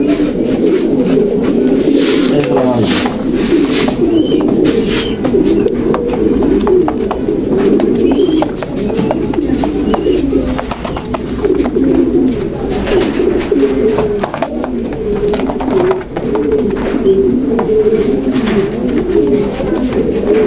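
A keeper releases a female pigeon at a loft, and steady cooing and bird calls carry on throughout, close and fairly loud, with a few sharp rustling bursts early on.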